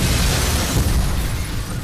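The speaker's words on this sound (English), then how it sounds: "with a massive explosion" A massive explosion at the start of the film The Matrix Reloaded, a dense, loud, continuous roaring blast with crackling debris that barely eases over two seconds.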